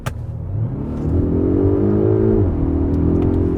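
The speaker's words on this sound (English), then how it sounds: "let me floor it in normal sporty mode" A 2021 Polestar 1 hybrid accelerates hard at full throttle in its sporty mode, the drivetrain rising in a steady swelling whine and hum that climbs, briefly dips around a shift, then holds loud and close with no talk.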